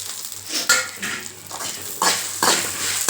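A utensil scrapes and clatters against a frying pan in short strokes as turkey berries and other ingredients are stirred, with a light sizzle underneath.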